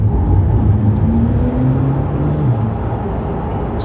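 Stock, unmodified exhaust on a Porsche 911 gives a close, steady engine rumble with droning harmonic tones that rise slightly as the revs climb, heard alone without talk.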